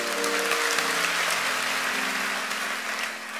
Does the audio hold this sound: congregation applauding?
yes